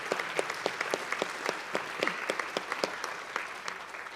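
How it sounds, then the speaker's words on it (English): An audience applauds students and their families at a school district recognition event, a dense steady round of clapping from a modest crowd, fairly near, with no speech over it. "one more round of applause for our students and their families as they head out"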